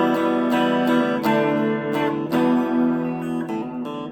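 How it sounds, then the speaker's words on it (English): Strummed electric guitar chords through the bridge humbucker of a Yamaha Pacifica PAC112VM, a full, ringing series of chord changes played up close with steady sustain. "if I were to use like the humbucker, which is like all the way at the end"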